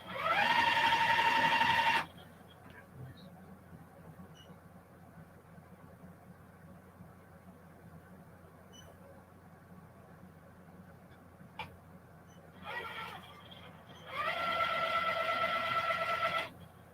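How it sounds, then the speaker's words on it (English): A sewing machine stitching quilt blocks corner to corner, a loud steady whir for about two seconds, then quiet, then a short stutter and another few seconds of running near the end. "Now I'm going to sew these corner to corner."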